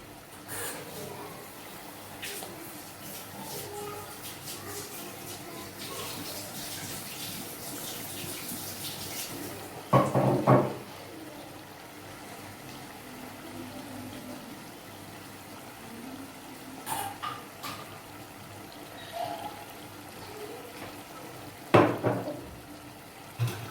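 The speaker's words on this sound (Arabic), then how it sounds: "نجيب الماء باش نرويو مرة وحدة" Water poured into a pot to moisten a Libyan asban dish of browned meat, heard as a steady, low pouring wash with a few louder splashes and clinks near the middle and end, and faint kitchen noise.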